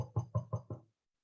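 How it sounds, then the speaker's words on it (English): Five quick knocks on wood in an even rhythm, close and moderately loud, then silence. "knock on wood"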